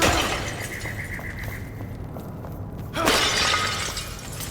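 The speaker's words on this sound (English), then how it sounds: "running through, desecrating the place, smashing everything that I see" Breakable objects shatter in the video game Enshrouded, with a crackling crash at the start and a second loud burst of smashing debris a few seconds later.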